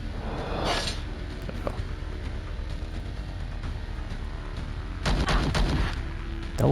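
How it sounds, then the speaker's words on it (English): Sniper gunfire in the sci-fi video game Star Traders: Frontiers, a sharp booming shot early and a louder crack near the end over a steady low rumbling background. "Oh, you got a shot off."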